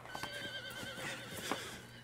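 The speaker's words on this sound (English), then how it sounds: "We nearly got hit by a horse." A horse in the video game Red Dead Redemption 2 lets out a loud whinny over hoof clops, close by and brief.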